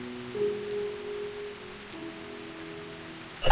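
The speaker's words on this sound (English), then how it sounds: "What a heavy rain outside!" Heavy rain falls in the Reverse 1999 video game, a steady soft hiss of downpour under low tonal background music, with a sudden louder noise at the very end.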